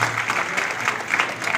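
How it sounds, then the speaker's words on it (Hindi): Applause from an audience at a religious Manas stage gathering, a steady wash of many hands clapping at moderate distance, continuous and fairly even without voices. "मैं चाहूंगा कि आप लोग एक बार तालियां तो बजा दीजिए इनके लिए।"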